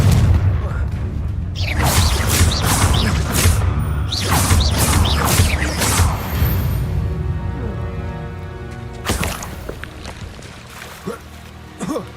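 In the Hogwarts Legacy video game, a Confringo spell sets off loud booming explosions with whooshing bursts and crashing debris. Spoken dialogue runs between the blasts.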